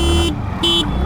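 A TVS Jupiter 125 Smart XConnect or Honda Activa 125 H-Smart scooter sounds its horn in two short, loud honks, close by with no talk over it.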